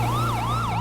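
A wailing emergency siren in a video game sweeps up and down in a rapid, loud, close cycle over a steady engine hum.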